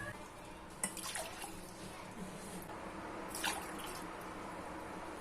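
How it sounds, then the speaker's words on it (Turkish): Water is poured into a cooking pot over sugar while making syrup for a Turkish semolina dessert, heard as a faint, brief splash and trickle at about one second and again near three and a half seconds over quiet kitchen background. "Üzerine de 3 su bardağı suyumu ekliyorum."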